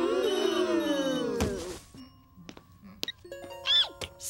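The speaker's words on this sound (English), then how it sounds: "I thought I made it clear that there were to be no cellular phone calls received or made in this class." In an animated classroom scene, a mobile phone rings out with a bright electronic ding-dong tone repeating several times after a short drawn-out vocal sound, the room otherwise quiet.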